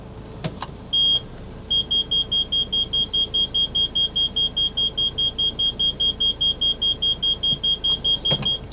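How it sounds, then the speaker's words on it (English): The parking sensors of a P2 Volvo V70 with an automatic gearbox beep in a fast, steady, even series of high tones. The beeping is close and clear over a low idling engine. "I do have the world's most annoying parking sensors"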